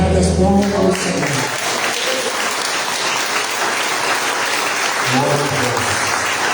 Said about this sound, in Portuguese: Vamos iniciar a comunidade as palmas ao Senhor